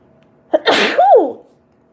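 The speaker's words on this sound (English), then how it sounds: "Sorry, that was a sneeze." A single loud, close human sneeze bursts out sharply with a quick inhale before it, then silence.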